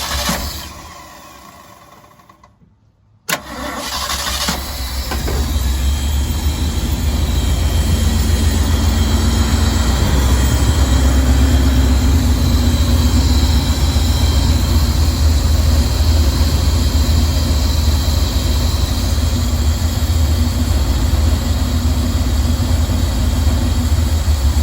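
Engines that just had carburetor and timing adjustments fire back up after a brief quiet gap, then settle into a loud, steady low-pitched idle that drones on continuously without talk.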